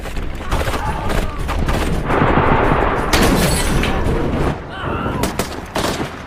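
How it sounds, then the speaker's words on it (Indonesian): Gunfire in a war film battle as Turkish troops shoot at surviving ISIS fighters, a dense continuous volley of shots with booms, loud and sustained with a brief dip near the end. "para teroris yang masih selamat dari ledakan itu langsung ditembaki oleh pasukan Turki"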